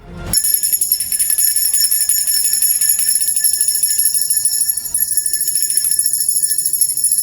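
A sustained high-pitched bell tone rings steadily with a buzzing, rattling texture underneath, continuing without pause.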